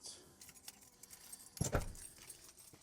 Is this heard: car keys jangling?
yes